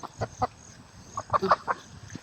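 A native Philippine chicken clucks in short, irregular bursts, close and fairly loud, with faint background noise between the calls.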